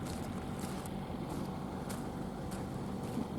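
A large helicopter idling on the ground, its engine and rotors giving a steady, loud rumbling whine with faint periodic whooshes, heard without talk.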